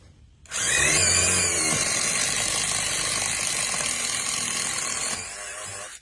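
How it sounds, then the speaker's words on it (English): A power drill whirs steadily for several seconds as it pre-drills holes into wood for glass railing post anchors, close and loud, then spins down. "pre-drilling the holes for all of the external posts for our anchors"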